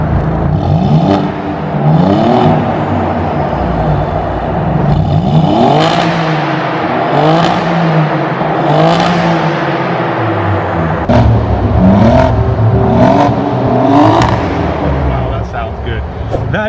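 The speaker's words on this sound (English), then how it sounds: "so have a listen to this Aquapovic exhaust." A warmed-up Alfa Romeo Giulia Quadrifoglio GTA M with a titanium Akrapovic exhaust revved repeatedly nearby, each loud, rising blip falling back to a burbling idle in a steady rhythm of about seven revs.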